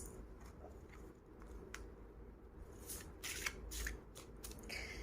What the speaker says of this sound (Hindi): Allow me some time to shuffle your cards.